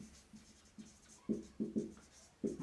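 Chalk or marker writes on a board during a physics lecture on ray optics and lens refraction. It comes as a series of short scratchy strokes, several sharper taps near the end, close and fairly faint.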